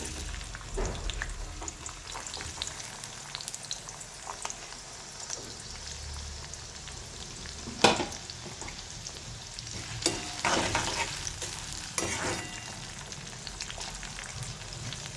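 Chopped onion and cumin seeds frying in hot oil for a dried bombil fish masala, a steady close sizzle with stirring scrapes and a few louder crackling bursts, no voices.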